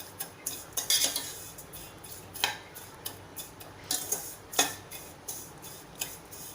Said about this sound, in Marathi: अशा मोकळ्या करून छान 1 मिनिटभर या तुपात परतून घ्यायचे।